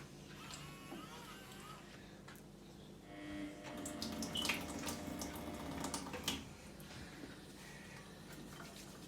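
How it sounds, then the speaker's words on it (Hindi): A kitchen tap runs while hands are washed before cooking, a soft steady stream of water with splashing that grows louder midway, heard close under a child's and adult's voices. "पहले हमने हाथ धोने हैं 20 सेकंड्स।"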